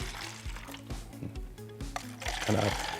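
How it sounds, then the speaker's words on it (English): Water is poured in a stream from one cup into another, a light liquid splash that swells toward the end, heard close under a person talking over background music. "You want to kind of pour the water in like a stream so they could see the water go into one cup"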